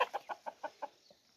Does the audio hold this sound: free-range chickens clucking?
yes